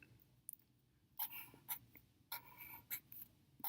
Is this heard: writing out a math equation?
yes